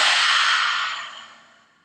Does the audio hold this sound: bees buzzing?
no